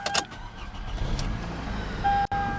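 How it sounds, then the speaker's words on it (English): A 2006 Toyota Camry LE starts up with a few clicks and a short crank, then its engine catches and settles into a smooth, steady idle, close and fairly loud, with a brief pause before the end. "for the startup, we have a nice clean startup, a nice smooth idle"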